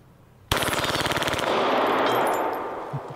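A Glock 17 pistol fires at a shooting range in a sudden, rapid string of sharp, close shots that blur into a rattling burst, followed by a ringing, fading echo.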